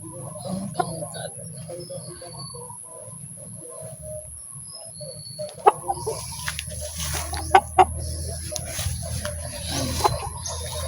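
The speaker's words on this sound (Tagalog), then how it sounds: "Ito yung gawin kong broodcock mga ka-backyard." A Shamo gamecock broodcock, seven months old, clucks repeatedly at close range in a backyard, with sharp intermittent calls standing out against quiet surroundings.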